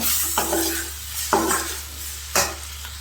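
A spoon stirs turmeric and chilli powder into a simmering fish gravy, with three distinct scraping strokes against the pot over a soft, steady sizzle, close and clear.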